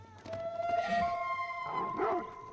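A single wolf howl in Age of Empires IV, long and tonal, rising and wavering over a couple of seconds, moderately loud with faint background noise.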